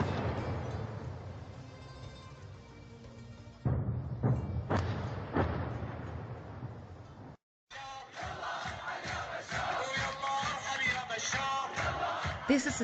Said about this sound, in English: This is the sound of the almost carnival atmosphere of the Arab Spring reaching the Syrian city of Hama in July 2011